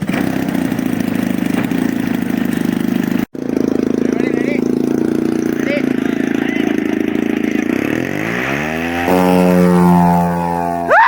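A small airplane engine runs for trial taxiing, a loud close drone that briefly cuts out, then builds again and rises in pitch as it revs up.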